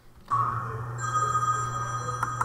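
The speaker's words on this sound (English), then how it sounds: "Phone ringing again." Telephone bell ringing with a sharp electronic tone that starts abruptly and holds steadily, close and clear with no voices.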